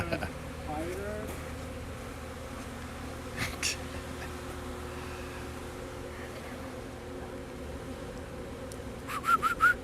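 Honey bees buzz steadily around a beekeeper working a colony, a continuous insect hum close by with occasional louder fly-pasts, and soft speech briefly in the background.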